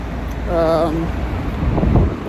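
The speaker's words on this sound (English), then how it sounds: "If you can't hear me, I'm really sorry, it's windy." Low, gusty wind rumbles across the microphone while a person's voice speaks briefly in the middle.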